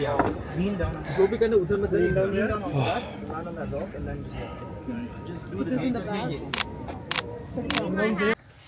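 People chat outdoors on a day trip in Ninh Binh, and then three sharp camera shutter clicks snap a selfie in quick succession near the end.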